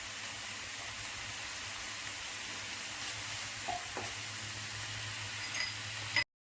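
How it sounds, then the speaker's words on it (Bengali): Greens cooking in a hot pan for a Bengali laai shaak and fish dish give off a steady, close sizzle and frying hiss, with brief louder spits where water lands in the oil. "এই যে জল দিয়ে দিলাম।"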